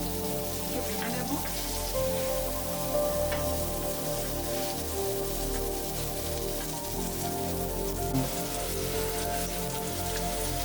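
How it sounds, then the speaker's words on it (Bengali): Mango pieces fry in mustard oil in a pan for a Bengali mango fish curry, giving a steady, dense sizzle with a rain-like patter that holds at an even level throughout, with no talk. "আমগুলি ভাজা হয়ে গেছে।"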